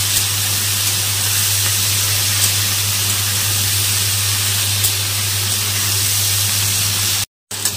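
Green beans fry in a hot pan with sugar, giving a loud, unbroken sizzling hiss that holds steady and close, broken only by a brief moment of silence near the end.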